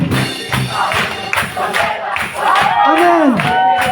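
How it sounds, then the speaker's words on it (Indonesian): A worship crowd at a youth camp revival service cheers and shouts loudly and keeps it up, with clapping mixed in and a raised voice or whistle-like cry rising above the roar near the end. "Mari tepuk tangan."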